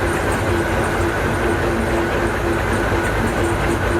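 Bison V10C diesel locomotive running steadily uphill on a rising narrow railway line out of Munkedal harbour, a continuous loud engine drone with rhythmic wheel clatter on the rails and no voices.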